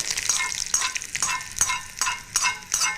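A spoon stirs sesame chutney in hot oil for tempering, giving a crackling sizzle with periodic scraping strokes, close and fairly loud, with no one speaking.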